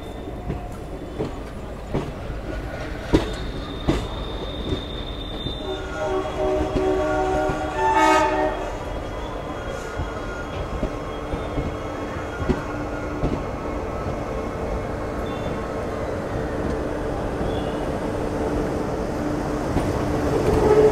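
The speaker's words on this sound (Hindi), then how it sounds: "तो हमारी ट्रेन अभी तीसरे ट्रैक होते हुए" A diesel train on the Bhatinda–Firozpur–Amritsar route rumbles steadily as it switches onto the platform track, with a long horn blast around the middle and a continuous rolling clatter of wheels throughout.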